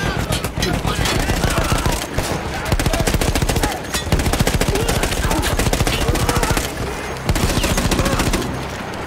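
A mounted machine gun in Battlefield 1 hammering out long, rapid bursts, loud and close, with brief pauses between strings of shots.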